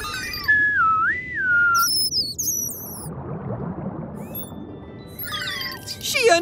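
A person whistles in imitation of a dolphin's signature whistle, a clear wavering tone rising and falling, followed by higher rapid chirping whistles and a burst of splashy noise in between, with further whistles at the end.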